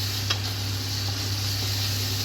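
Kashmiri red chilli frying with garlic in a pan for mutton shahi korma, a soft continuous sizzle and hiss with a low steady hum underneath and one brief clink near the start.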